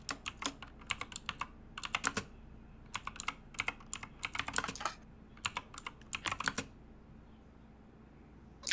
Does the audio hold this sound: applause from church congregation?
no